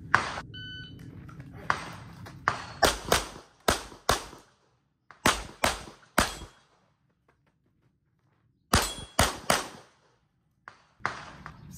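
Pistol shots from dynamic shooting practice on steel targets, fired in rapid strings of sharp loud cracks with ringing hits, pausing between groups in a quiet outdoor range, preceded by a short beep.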